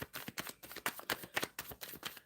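Tarot cards shuffled by hand in a steady run of crisp riffling bursts, close and fairly quiet, with no talking.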